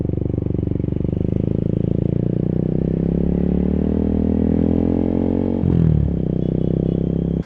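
A big-bike motorcycle engine, picked up by a DJI Mic Mini clipped near the exhaust, drones loudly and steadily at close range with a brief rev and clatter near the end, with no voices.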